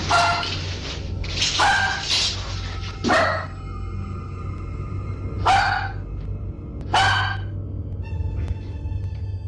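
A small dog barks and yips in agitated bursts at the creaking of old wooden stairs, several sharp barks spaced through the clip over a steady low hum, fairly close.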